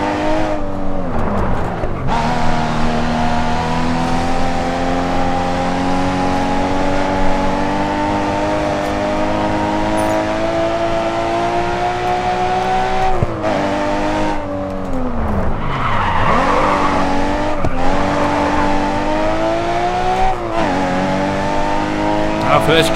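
A race car in the racing game Grid 2, damaged at the right rear wheel, scrapes and skids with a loud sustained engine roar and tire squeal, its pitch dipping and rising, while someone talks over it.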